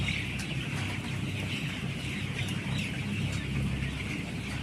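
Poultry chickens on an automated Malaysian-style farm cluck steadily in a dense, continuous chorus, close and moderately loud, with no talking over them.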